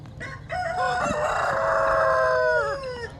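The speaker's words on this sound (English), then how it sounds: "you have got to work on that crow. I mean, man. Sound like an old man." A Brahma rooster crows one long, loud, drawn-out call close by, its hoarse crow holding steady for about two seconds before trailing off.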